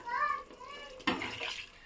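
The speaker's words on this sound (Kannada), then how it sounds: "ರುಬ್ಕೊಂಡಿರೋ ನೀರು ಹಾಕಂತ ಇದ್ದೀನಿ" Water is poured into ground masala paste for a Sunday fish curry: a sudden splashing pour that follows a stretch of speech, then carries on steadily to the end.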